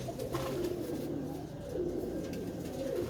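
Pigeons coo steadily and close by, a low, continuous rolling murmur from several birds overlapping without pause, with no talking.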